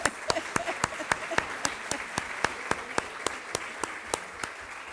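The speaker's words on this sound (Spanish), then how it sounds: "Un aplauso para Brasil también." A conference audience claps for the Brazilian delegation, with sharp, evenly spaced hand claps in a steady rhythm, fairly close and moderately loud, with no talking over them.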